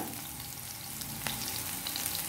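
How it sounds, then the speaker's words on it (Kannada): Cubes of paneer fry in hot oil in a pan for chilli paneer, giving a dense, steady sizzle with a few sharper pops, close and alone. "ಒಳ್ಳೆ ಫ್ರೈ ಆಗ್ತಿದೆ."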